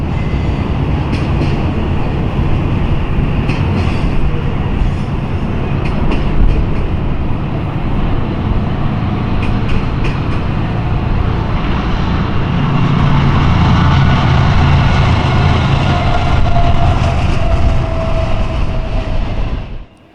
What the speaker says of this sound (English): we got jump scared by a westbound Norfolk Southern intermodal with a DC Gevo and a BNSF one